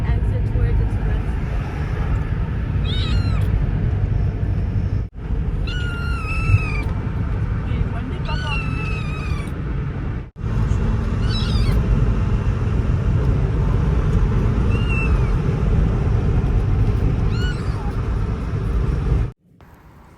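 A young kitten meows several times, high and thin, over a constant loud rumble of a moving vehicle, with speech mixed in.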